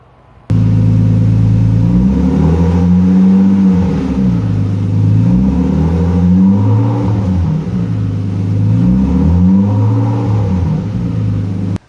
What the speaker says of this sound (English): I'm just going to quickly run the car through some gears with the wheels off the ground